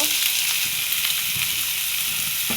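A potato fries in oil left over from frying hilsa fish, giving a loud, continuous close-up sizzle with faint crackles throughout.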